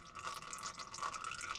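Liquid drains out of an upturned appliance during motor repair work, making a faint, continuous trickling and dripping wash close by with no voices.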